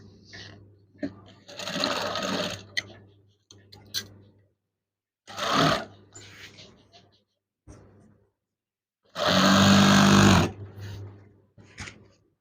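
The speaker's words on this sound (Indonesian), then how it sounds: "Sewing." Sewing machine stitching a folded curtain hem in bursts, with several short runs and a longer, louder run near the end, separated by pauses and handling sounds; a voice speaks briefly between the runs.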